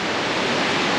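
Shannon Falls near Whistler, BC, a constant broad roar of falling water, loud and even, with no voices.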